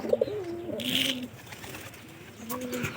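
Pigeons in a coop with a new breeding pair give low, wavering coos, a few soft phrases rising and falling near the listener against faint background hiss.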